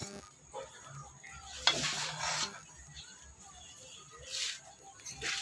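Garlic and black pepper sautéing in a pan for Filipino milkfish steak, a low stirring rasp with soft sizzle and a brief louder scrape midway, fairly quiet throughout with no talk.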